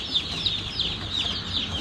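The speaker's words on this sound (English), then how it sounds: "first batch of Freedom Rangers are going in the brooder" Freedom Ranger chicks peep constantly as they are placed into a brooder, a close chorus of high, overlapping cheeps with no pause and no talking.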